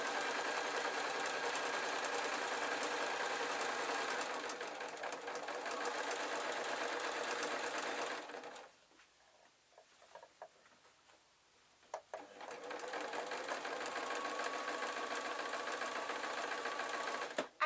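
A domestic sewing machine stitches the backing of a quilt through the wadding, giving a loud, steady, fast whirring run. It pauses for a few seconds midway, then starts up again and carries on.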